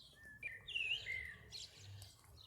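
Small birds in a garden give several chirps and short tweets, faint and somewhat distant, over quiet background noise with no talk.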